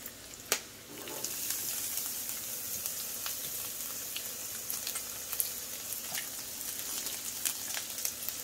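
Onions sizzle on a Blackstone 22-inch tabletop griddle, a constant close hiss of frying peppered with small pops and crackles, opening with a sharp clack as they hit the hot surface.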